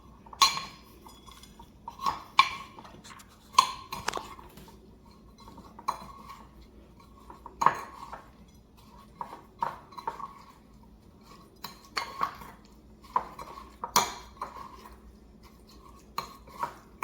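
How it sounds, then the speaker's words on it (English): A spoon stirring pecan roll mixture in a bowl, with repeated clinks and scrapes against the bowl in an uneven rhythm, close and clear with quiet pauses between strokes. "Next, I need to stir this around."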